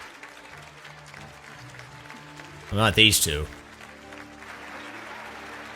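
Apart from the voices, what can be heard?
crowd clapping in a video game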